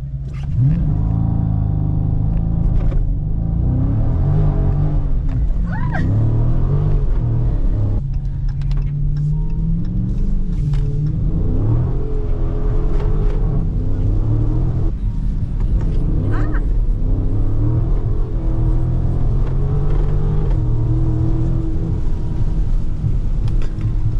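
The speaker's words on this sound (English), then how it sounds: "Launch control in the rain. To launch, press brake and quickly apply full throttle." A car's engine revs hard under a launch-control start in the rain, with a steady low rumble and roar filling the whole stretch, while voices talk over it.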